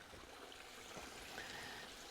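A small, crystal-clear, ice-cold creek with a gravel bottom and a little waterfall gives a steady, faint trickle and wash of running water, continuous and uniform with no other sounds.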